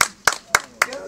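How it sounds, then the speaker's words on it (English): People clapping along to music at an informal gathering: four sharp, evenly spaced hand claps in a steady beat, close and loud, with voices and background sound underneath. "Y'all clap."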